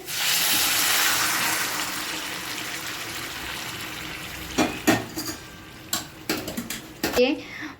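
Hot water pours into a pot of braised mutton, a steady rushing hiss that fades over several seconds, followed by a series of sharp clanks and scrapes of utensils against the pot.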